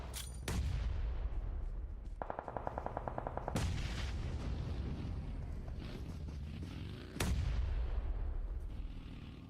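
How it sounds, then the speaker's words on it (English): A grenade thrown and exploding in the PUBG Mobile esports match, heard as three loud, sharp booming blasts with rattling gunfire between them and a steady battle din throughout. "Xenox, got the nade at the ready. Will it find its place though? Off it goes."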